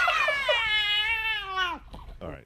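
A cat lets out a loud, drawn-out yowl close by, a single rising-and-falling cry that breaks off abruptly, followed by a short second wail.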